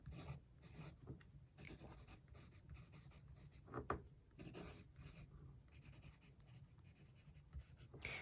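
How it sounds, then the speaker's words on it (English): A Tombow 8900 graphite pencil writing on paper, with a soft, continuous scratchy rasp of strokes and brief pauses, quiet and close with no talking. "This pencil says it's for general writing, so let's try to write with it."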